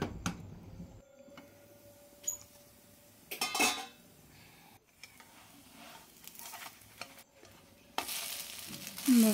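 Sabudana thalipeeth fries in ghee in a covered pan, a soft sizzle broken by clinks and scrapes of a spatula against the pan and lid, with louder bursts of sizzling near the start and end.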